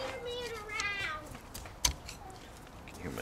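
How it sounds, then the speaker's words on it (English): Children play and call out faintly in the background of a garage where front ball joints and a U-joint are being fixed on a 2004 Dodge Ram 3500 4x4, with one sharp knock partway through. "You can hear my kids playing in the background."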